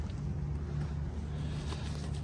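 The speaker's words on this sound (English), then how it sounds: "The exhaust sounds really nice." Rumble of a 1964 Ford Galaxie 500 XL's exhaust fitted with glass packs, a steady low drone heard close and continuous, with some wind noise and no talking.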